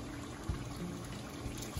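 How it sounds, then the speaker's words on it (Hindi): Water, about a glass's worth, is poured into a pot of Chinioti mutton kunna, a soft, faint trickle and splash over a quiet kitchen background. "अब हम इसके अंदर पानी डालेंगे"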